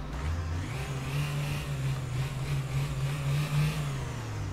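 A car engine in the mobile driving game Car Parking Multiplayer fires up and settles into a steady hum that rises and falls with light revs, heard alone and fairly close.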